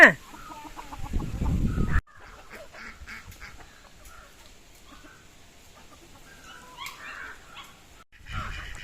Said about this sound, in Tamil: நான் தீனி போட வரேன் கோழியெல்லாம் என் பின்னாடியே வந்துருச்சு